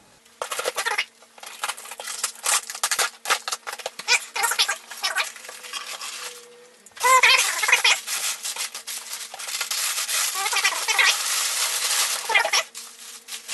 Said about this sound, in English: Get my trusty cutter here.